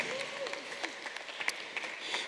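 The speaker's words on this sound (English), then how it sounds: "Ladies and gentlemen, a round of applause for them once again as they prepare to dance their way out." Guests at a wedding at All Saints Cathedral in Nairobi applaud in a sustained, reverberant patter of clapping, with a few voices faintly audible beneath.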